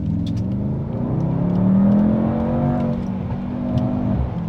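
A Mercedes-AMG GT 63 E Performance accelerates hard out of a bend, its engine note swelling into a loud, rising roar, with a few faint crackles from the exhaust on top.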